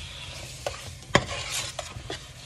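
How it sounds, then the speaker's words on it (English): Garlic and onion powder stirred into meat cooking in a pan, a few soft scrapes and a sharp utensil knock over a quiet sizzle, close and brief. "And we're gonna mix that in"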